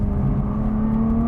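A Nissan GT-R engine drones steadily and loudly at a constant pitch while the car accelerates through a corner, close and continuous with no talk.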